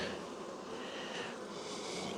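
Honeybees clustered around their queen in a colony hum in a soft, continuous buzz, faint and steady with no voices.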